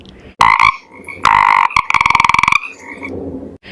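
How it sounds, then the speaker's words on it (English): A frog croaks loudly and close in a series of bursts, first two long rasping croaks, then a fast ratcheting trill of rapid pulses, ending in softer noise. "green frog looking at me."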